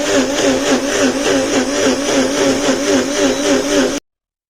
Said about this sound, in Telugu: ముందుగా కరివేపాకుని చక్కగా దూసేసి కడిగేసుకుని దీన్ని మిక్సీ పట్టేసేయాలన్నమాట